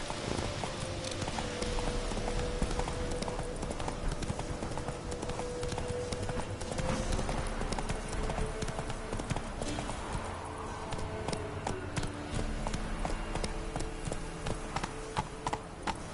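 Horse hooves galloping in The Witcher 3, a rapid, close, continuous clip-clop rhythm with occasional snorts and background game sounds.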